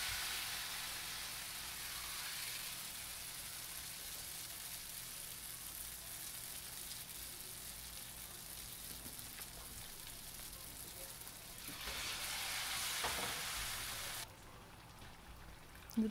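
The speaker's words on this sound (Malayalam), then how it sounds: "ഞാൻ ഇതിലേക്ക് മാവിൽ മുക്കിയെടുത്ത ഓരോ പഴമായിട്ട് ആഡ് ചെയ്ത് കൊടുക്കാം." Battered banana fritters (pazhampori) fry in hot oil with a soft, steady crackling hiss, much like light rain, which swells briefly near the end before dropping to a quieter bubbling, with no speech.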